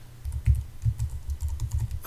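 Keyboard keys clatter in quick irregular bursts while code is typed on a computer, a close, steady patter of clicks with no voices over it.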